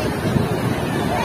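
Sea waves surging and breaking on a crowded beach, a steady broadband wash with wind buffeting the microphone, continuous and fairly loud throughout.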